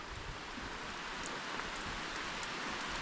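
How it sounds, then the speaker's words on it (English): Steady, even rain falls outdoors in Africa as a continuous soft hiss with no breaks and no voices. "the rain caught me on camera and it's finishing up on camera"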